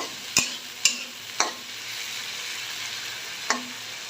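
Salt, chili powder and cumin are stirred in a hot pan: four separate sharp scrapes and knocks of a utensil against the pan over a soft steady sizzle, close and clear, with no voices.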